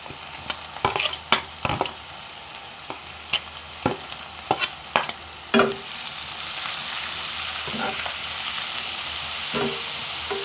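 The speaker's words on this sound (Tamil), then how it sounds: "மிக்ஸை போட்டு நல்லா வதக்குவோம்" Grated carrot and leek being sautéed in a pan for chicken biryani, with a steady hiss of frying under a run of sharp stirring scrapes and clacks in the first half, then softer occasional scrapes over continuous sizzle.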